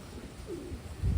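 A Taiwan racing pigeon gives a soft, low coo, close by, with faint handling noise and a brief thump at the end.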